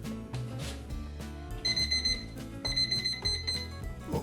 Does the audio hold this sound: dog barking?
no